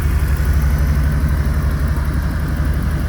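A 1988 Chevrolet Camaro IROC-Z with a 5.7 tuned port injection V8 and Flowmaster muffler idles in a steady, deep, mellow rumble, close and continuous with no voices.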